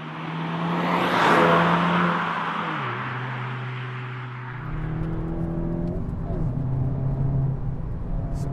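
A 2019 Mk7.5 Volkswagen Golf GTI Performance in sport mode accelerates hard, its engine note climbing through the revs with a brief dip at a gear change before building again, loud and close from inside the car.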